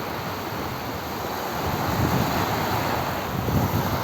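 Rough sea on a Philippine shore after a big storm, with a dockyard and fishing boats nearby: a constant roar of surf and gusting wind rumbling across the microphone, loud and continuous, with surges of breaking waves and no voices.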